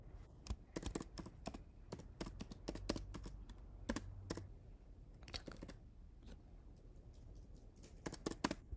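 A computer keyboard is typed on in quick, irregular bursts of close clicking keys, with brief pauses between runs and no talking.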